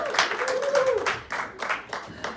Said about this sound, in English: give it a good round of applause